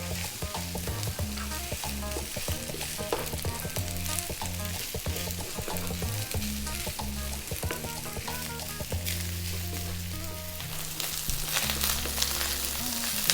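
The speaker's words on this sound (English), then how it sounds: "Now don't be shy about frying your rice" Continuous loud sizzling and frying of cilantro rice in a pan, with scraping and stirring sounds and a music bed underneath.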